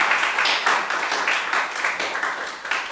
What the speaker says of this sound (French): Nous pouvons applaudir pour la bénir.